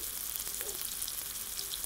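Small sausages frying in a pan make a steady, close sizzle with a bright crackling hiss that stays even throughout, with nobody talking.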